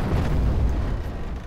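A flaming artillery shot from a medieval siege engine strikes its target in Medieval 2 Total War, a loud sustained rumbling boom filling the whole moment, heavy and low.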